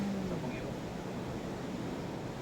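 Strong sea waves at Gota Beach resort, with the water murky and rough, make a steady, loud broadband wash of surf and wind that fills the whole stretch without a break.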